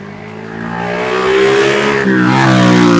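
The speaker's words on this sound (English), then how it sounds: "the sound of that motorbike, who definitely had an aftermarket muffler." A loud motorbike with an aftermarket muffler revs and climbs in pitch with a throaty, rumbling exhaust, holding steady and close for a few seconds, on a mountain pass road.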